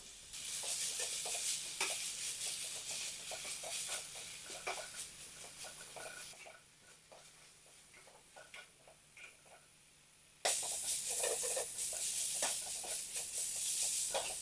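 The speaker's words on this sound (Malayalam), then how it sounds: "ഇനി ഇതിലോട്ട് നാല് സബോള അരിഞ്ചേർത്ത് കൊടുക്കാം കൂടെ കുറച്ച് ഉപ്പ് ചേർത്ത് നല്ലപോലെ വഴറ്റിയെടുക്കണം" Sliced onions with salt sautéing in a pan for Kerala egg roast, with a soft continuous sizzle and light ticking stirs that drop quieter for a few seconds, then return louder.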